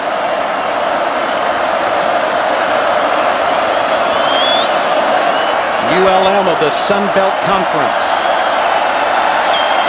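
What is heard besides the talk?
Tiger Stadium crowd cheering at LSU football game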